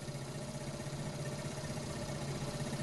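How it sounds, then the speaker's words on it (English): A rough-running engine idles with a steady, low mechanical drone and a slight uneven vibration, continuous and fairly close, with no voices. "But that engine sounds a bit rough"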